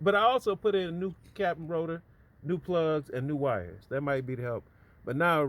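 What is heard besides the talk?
No distinct noise like a dog, phone or traffic.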